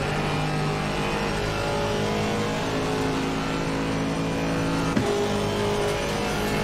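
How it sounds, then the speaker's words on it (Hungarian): Race car in a racing video game at Monza, engine held at full throttle in a steady high-pitched drone, accelerating through a long bend toward the second chicane, loud and continuous with a brief shift blip near the end. "utána a nagy kanyarban padlógázon gyorsítunk tovább a második sikán a Della Rodzsa felé"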